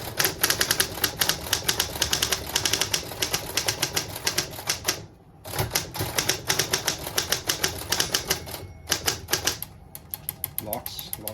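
Royal Electric Standard typewriter with Elite type, keys striking in fast bursts of sharp clacks, with a brief pause near the middle and another before the end, close and loud.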